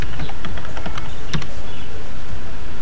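Quick keystrokes on a computer keyboard as a password is entered during blog sign-in, a short irregular run of light clicks close by with no talking.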